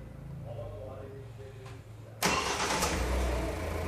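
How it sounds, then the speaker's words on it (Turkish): A Kia Sportage engine cranks and catches at about the two-second mark, then settles into a steady idle close by, with low murmuring voices before it starts. "Aracı çalıştırın."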